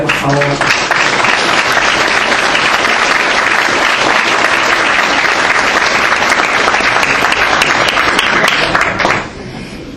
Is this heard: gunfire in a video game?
no